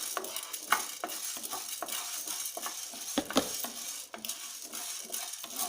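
Urad dal roasts dry in a pan while a spoon stirs it, producing rapid repeated scraping and rattling of grains against metal at a moderate, close level.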